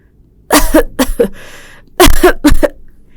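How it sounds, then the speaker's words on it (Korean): An elderly man coughs loudly and close by, on a freezing winter street before dawn, in two harsh bouts of about four rapid coughs each, separated by a wheezy breath. "아이고, 기침이 사람 잡네."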